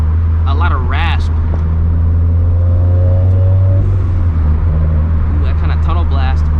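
A Greddy-turbocharged Scion FR-S with an unequal-length manifold revs inside a tunnel, its loud, raspy exhaust droning with turbo flutter chirps, while voices talk over it.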